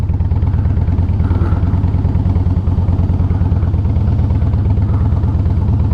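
A Harley-Davidson Softail runs steadily while riding, its V-twin giving a low, even, pulsing thump that stays loud and close for the whole stretch with no talking.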